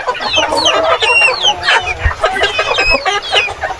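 Rhode Island Red heritage chickens on a farm, several birds clucking and cackling close by in a busy overlapping chorus, with faint background noise.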